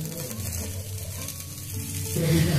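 Atlu batter frying in oil on a pan, a steady close sizzle running the whole time and growing a little louder toward the end, with no voices.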